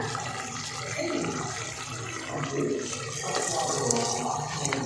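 Washed rice with its water is tipped into a cooking pot of tomato masala, making a continuous sloshing, splashing pour that swells and fades over a few seconds.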